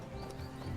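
Roach the horse galloping in The Witcher 3, a quick run of muffled, rhythmic hoofbeats heard faintly over a low background.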